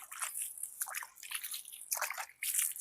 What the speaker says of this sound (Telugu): కొంచెం వాటర్ ఇస్తే సరిపోతుంది